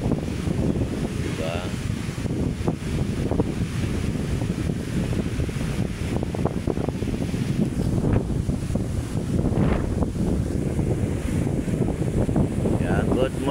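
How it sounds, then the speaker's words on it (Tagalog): Strong wind buffets the microphone over steady crashing waves on Manila Bay, a loud, continuous roar of gusts and surf that never lets up. "Lakas ng alon. Lakas pa ng hangin."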